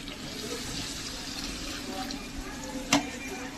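A small amount of water runs into a village kitchen dish of chili, turmeric and salt, making a soft continuous wash of liquid that ends in a brief sharp clink.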